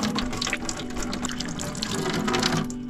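Water pouring and gushing steadily, as if from a ladle or jug for washing up in a small village kitchen in Bryansk region, continuous and fairly close with no talk.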